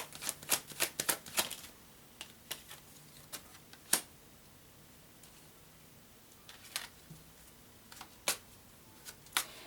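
Tarot cards being shuffled and drawn, a flurry of close crisp riffles and snaps followed by sparse single card clicks and flicks, quiet, with no talking.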